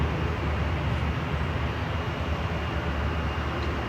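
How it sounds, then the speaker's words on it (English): A Ryanair jet touching down at Manchester Airport, a steady broad low roar of engines and rushing air holding level and fairly loud throughout, with no voices. "Ryanair touching down from Funchal, EILD, flight 6."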